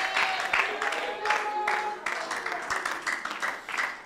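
A church congregation applauds during a sermon, a dense wash of clapping with a few sharper individual claps, steady throughout, while a voice or sustained tone runs faintly underneath.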